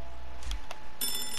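In the Hello Neighbor video game a telephone rings, with brief electronic ringing bursts over a low background hum and a sharper high-pitched ring near the end.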